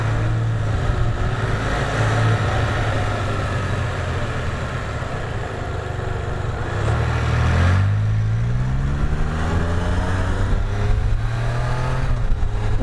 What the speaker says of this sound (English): those cars sounded good.